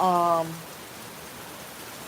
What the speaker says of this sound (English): there was no rain in the forecast and it started raining